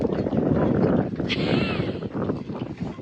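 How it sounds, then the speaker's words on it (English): Strong, steady wind in a Baltimore snowstorm roars and buffets the microphone throughout, with a brief higher whistle partway through. "super windy now. It's a snowstorm."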